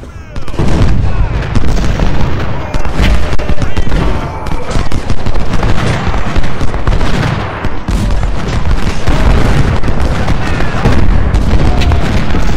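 Heavy musket and rifle fire crackles through a Civil War battle at Malvern Hill in Ultimate General: Civil War, volleys and booming reports overlapping in a loud, nearly continuous barrage.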